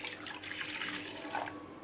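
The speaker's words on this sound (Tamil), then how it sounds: "நான் வந்து 1 கிளாஸ் தண்ணி வந்து ஊற்றுறேன்" A glass of water is poured into a pan while making jaggery syrup for kuli paniyaram, a steady splashing pour lasting under two seconds.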